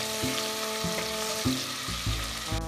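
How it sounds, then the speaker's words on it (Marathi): Ginger garlic paste sizzles steadily in a hot pan while being sautéed for Maharashtrian misal, with several scraping stir strokes and a continuous frying hiss, close and fairly loud, no voices. "आलं लसूण थोडं व्यवस्थितपणे परतवून घेऊया"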